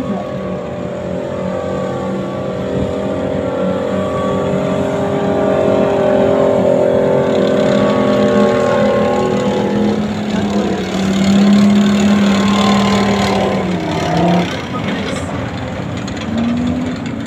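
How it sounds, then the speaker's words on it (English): Philippine Army armored tracked combat vehicle driving past with a loud, steady engine drone that rises and falls as it moves, with a grinding surge near the end. "The armored combat vehicle."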